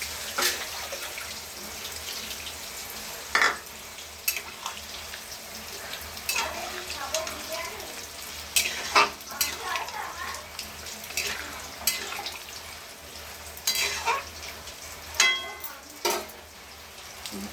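Pumpkin slices frying in a pan in a home kitchen make a soft, continuous sizzle, punctuated by scattered clinks and scrapes of utensils, fairly quiet and close.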